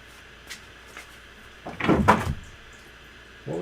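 A board knocked over by an animal indoors lands with a sharp clattering knock in a quick double burst, loud against a quiet room, with a few faint taps before it.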